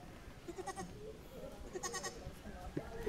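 A child imitates a goat's bleat, giving a few short wavering voiced calls, faint and close over room noise.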